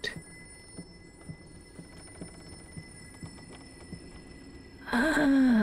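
Telephone bell ringing inside the horror video game Layers of Fear, heard as a sequence of short, evenly spaced rings over a quiet ambient backdrop before a loud swelling burst of sound takes over at the end.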